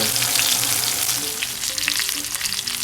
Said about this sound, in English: after you put that beautiful sear on there